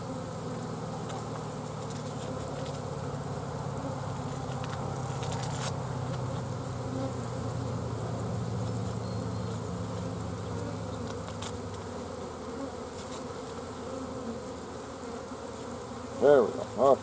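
Honey bees buzz densely around a nuc during installation, a steady close hum throughout with a couple of brief knocks near the end.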